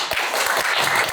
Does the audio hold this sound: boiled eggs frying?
no